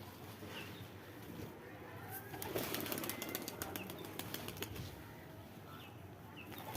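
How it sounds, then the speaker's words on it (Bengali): Pigeons flapping their wings as they come down to feed outdoors, a soft fluttering rush that swells in the middle, with faint cooing and distant background noise around it. "এই যে সব নামছে কবুতর খাবার খাওয়ার জন্য।"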